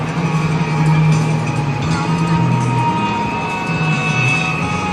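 A steady jet engine roar with a high whine, loud and close, holding level as a Rockwell Sabreliner business jet passes by at an airshow.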